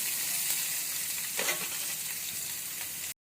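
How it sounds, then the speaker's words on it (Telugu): Sliced onions sizzle in hot oil in a pan as they are stirred toward light brown, a dense steady crackle with a brief scraping stir midway before cutting off. "ఇప్పుడు ఆనియన్ వేద్దాము. ఆనియన్ కూడా మంచిగా లైట్ బ్రౌన్ కలర్ వచ్చే వరకు ఇలా కలిపెడుతూ ఉందాము."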